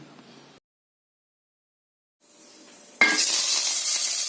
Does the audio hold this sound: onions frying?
yes